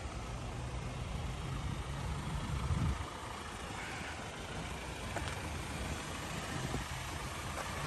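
A used Jeep's motor idles steadily with a low, even rumble, moderately close and unchanging, with no talking over it.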